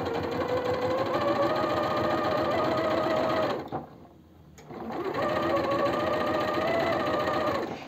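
A sewing machine stitches the collar onto a silk blouse with a steady, rapid mechanical whir heard up close. It stops briefly partway through and then runs again at the same pace.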